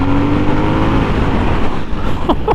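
2021 Harley Davidson Sportster S motorcycle accelerating hard in third gear with no downshift, a loud rising engine roar that holds steady, then dips with a brief change near the end; no talk.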